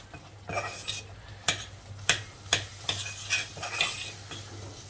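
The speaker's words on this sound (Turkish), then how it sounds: "Un kavurur gibi, un helvası kavurur gibi biraz kavuracağız bunu." Flour roasting in a pan for béchamel sauce, stirred with a utensil that scrapes and taps the pan in a steady rhythm of about eight strokes over a faint sizzle.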